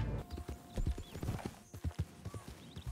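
Horse galloping in Red Dead Online, a quick rhythmic run of hoof clops close by with a short neigh mixed in.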